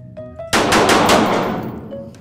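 Rapid automatic gunfire in the VR shooter Blood Trail bursts in loudly after a short quiet hum, a dense close-range volley of repeated shots that decays over about a second and a half.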